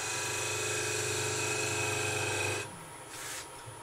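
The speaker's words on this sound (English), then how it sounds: "And we use the spindle gouge wing just to keep her round." A spindle gouge cuts a wooden goblet spinning on a lathe, giving a steady, close whirring rasp that stops short, leaving a quieter hum and faint scraping.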